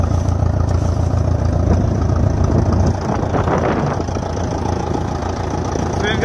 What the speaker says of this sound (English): And we've got the Allis Chalmers D17 up here.